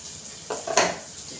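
A metal spoon stirs ivy gourd pieces in a kadai, making two quick scraping clanks against the pan, the second louder, over a quiet background.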